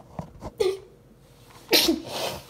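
A person sneezes twice, a short sneeze near the middle and a louder, fuller one toward the end, with faint talking around them indoors during blindfolded birdhouse painting.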